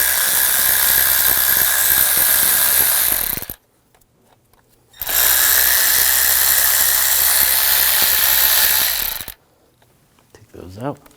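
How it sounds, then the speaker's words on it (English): A T30 socket on a ratchet backs out engine cover screws on a 2001-2009 Volvo S60, heard as two long bursts of loud, close mechanical whirring and clicking separated by brief quiet gaps. "Use the same T30 socket, take these two screws out."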